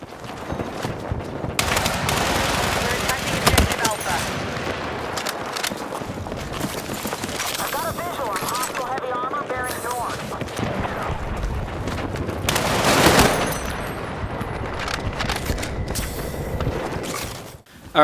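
Dense gunfire from the video game Battlefield 6 beta, with rapid automatic bursts, heavy single reports and booming explosions overlapping in a continuous, loud battlefield din.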